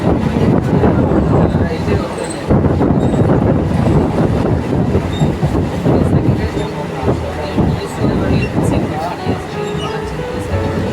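A moving passenger train rumbles from inside the carriage, with steady loud broadband roar, rattling and wind noise throughout and brief dips in the din.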